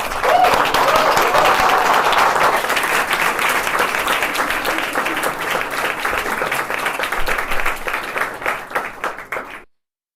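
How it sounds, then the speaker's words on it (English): Sustained round of applause from a conference audience at the European Forum Alpbach 2016, dense clapping that holds steady for about nine seconds before cutting off abruptly. "So let's give him applause, I guess, a round of applause."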